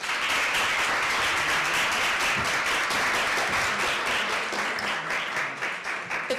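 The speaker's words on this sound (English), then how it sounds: "I would like to call for a round of applause for distinguished guests" Audience at a migration panel event applauding the guests, a dense, steady wash of many hands clapping that holds for several seconds before thinning slightly at the end.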